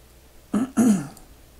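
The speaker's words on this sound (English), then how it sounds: "I'm going to be clearing my throat because of the cold I have" A man with a summer cold clears his throat, two short rough rasps in quick succession, close and alone against a quiet background.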